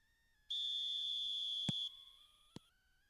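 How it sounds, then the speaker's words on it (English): Referee's whistle in a PES Mobile football match, one sustained shrill blast of about a second and a half with a short click and a faint later tap after it. "There's the whistle."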